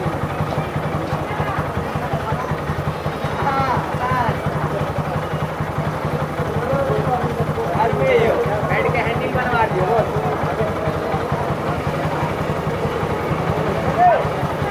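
A motorcycle engine runs steadily on its last bit of petrol, a constant low putter that holds at the same level throughout while a person talks over it.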